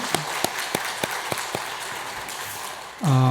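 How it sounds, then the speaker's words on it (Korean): A congregation applauds during a church worship service, a broad wash of clapping with a few sharper, evenly spaced claps standing out, before a voice comes in at the very end. "박수 한번 칠까요?"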